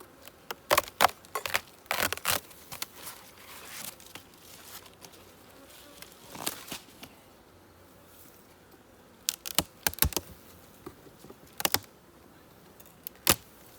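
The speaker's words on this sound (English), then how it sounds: "A lot of bees working it though, aren't they?" A steady low buzz of bees working a hive drones throughout, with sharp clicking and rustling bursts scattered over it, close and fairly quiet.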